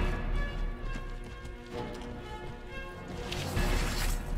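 Cavalry horses charging across a battlefield in the video game Prophesy of Pendor, a dense rumble of hoofbeats that rises and thickens toward the end, with no talk.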